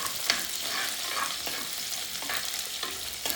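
A large ladle stirs fish curry masala in a pan, giving repeated scraping strokes over a steady low sizzle, close and fairly loud, with no talking.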